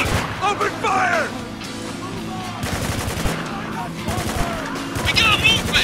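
Sustained automatic gunfire rattles through a firefight in the war shooter game Spec Ops: The Line, loud and continuous, with shouted voices calling out over the shots.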